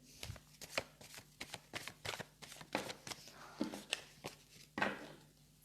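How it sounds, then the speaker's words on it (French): Oracle cards shuffled by hand in a tarot-style reading, producing a quick series of crisp riffling and flicking bursts, close and fairly quiet, with short pauses between shuffles. "Allez, on va mélanger mes guides s'il vous plaît."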